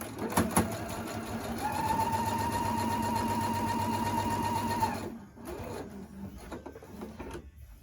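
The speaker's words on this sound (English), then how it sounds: "I like to sew on the top side because the top side is the side that really matters what it looks like." A sewing machine stitches the top side of a simple fabric mask in one steady run of about three seconds, then stops. Quieter handling sounds follow.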